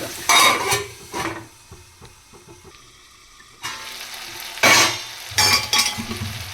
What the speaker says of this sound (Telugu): ఇందులో వేసేసాము దీన్ని కొద్దిసేపు ఉడకండి